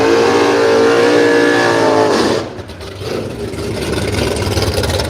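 A drag racing car at a radial drag meet at Willowbank, Australia roars close and loud under hard acceleration, its revving engine climbing in pitch before the sound drops away into a rumbling, fading pass.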